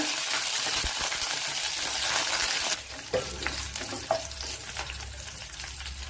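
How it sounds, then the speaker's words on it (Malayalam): Mustard seeds and curry leaves splutter in hot coconut oil in a steel pan: a loud, dense sizzle that suddenly drops, then continues as sharper, scattered crackles and pops. "ഇത് സ്റ്റീൽ പാത്രം ആയതുകൊണ്ടാണ് അങ്ങനെ പൊടുപൊടാ പൊട്ടിയത്"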